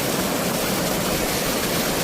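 River water from the swollen Sutlej rushes through the Ropar headworks into the Sirhind canal, a loud, dense, unbroken roar of churning flow.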